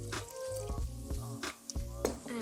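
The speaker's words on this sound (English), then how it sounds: "And then straight in with our apple cider vinegar." Apple cider vinegar poured into a jar of salt and sugar brine, a short run of wet glugging, dripping and splashing sounds, quiet and close, with faint background noise.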